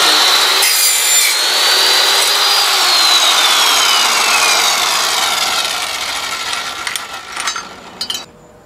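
A saw cutting through metal during a DIY refrigerant recovery system build, a steady, close rasping stroke that runs unbroken for about seven seconds before easing off into a few light knocks and scrapes.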